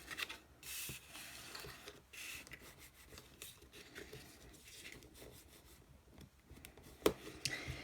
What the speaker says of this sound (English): I'm going to burnish these